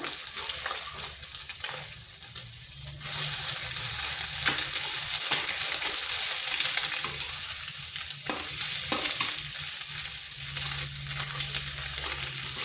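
Pointed gourd and egg curry with spices sizzles loudly in a pan under repeated spatula stirring and scraping, a dense continuous hiss with occasional knocks, close and without speech.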